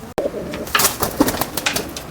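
A pigeon coos close by in several soft, throaty rising-and-falling calls over about two seconds, loud and alone after a brief click at the start.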